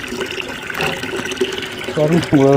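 Water poured over V-Guard solar panels to wash off dust, a steady splashing wash running throughout with a voice speaking over it near the end.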